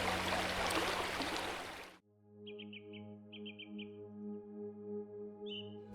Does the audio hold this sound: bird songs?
yes